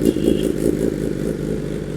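A 2024 BMW S1000 RR sports bike engine drones steadily nearby on a ghat road, a loud low rumble that holds with a slight pulsing throb and no voices.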